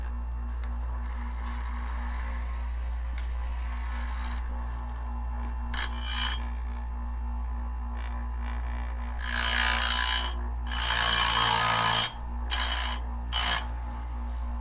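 A homemade lathe-mounted tool grinder runs with a steady motor hum while a tool bit is pushed back and forth against the wheel, giving bursts of loud gritty grinding near the middle and end.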